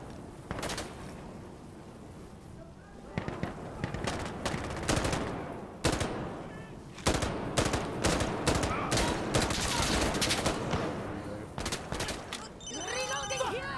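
M249 machine gun fire in the video game Insurgency Sandstorm, with dense bursts of automatic gunfire and scattered shots running continuously at close range, ending with a whirring game effect.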